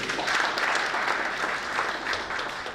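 Steady, full applause rises from a crowd at an awards ceremony, a continuous wash of many hands clapping with no voices on top.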